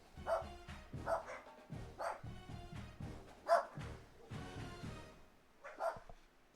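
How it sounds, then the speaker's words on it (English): Several loud, close barks from a dog arrive in an uneven burst of about six or seven through the stretch, with no one talking. "my dog's upset about something"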